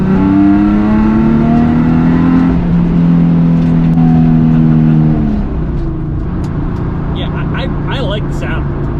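Nissan 350Z with a VQ engine, set up for track use, revving hard with a rising, sweeping harmonic tone that climbs then drops over several seconds, loud and close, before easing into a quieter whir with faint chatter.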